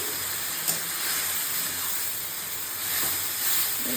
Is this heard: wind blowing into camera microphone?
no